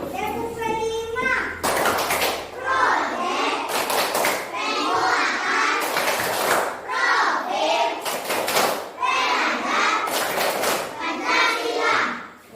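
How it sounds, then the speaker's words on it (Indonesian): A fourth-grade class of schoolchildren stands to perform the 'tepuk P5' clapping routine: sharp, rhythmic bursts of hand claps in quick patterns, interleaved with the children's loud chanted voices filling the classroom. "Silakan pimpin teman-teman anak-anak semua untuk melakukan tepuk P5 untuk semangat kembali dalam belajar"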